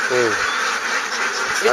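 Ducks quack nearby, with a burst of quacks at the start and again at the end. A person talks over a steady outdoor hum.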